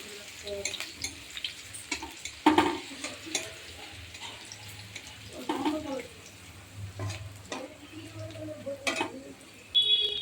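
Garlic and dried red chili fry in oil in a pan while greens are prepared, giving a quiet, sparse crackle with intermittent stirring clinks and a few sharper taps.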